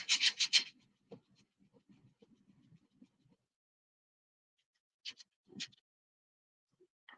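A craft block is scraped to remove wrinkles, with a burst of short rasping strokes at the start, then sparse, faint scrapes and two more distinct rubs later in an otherwise quiet room.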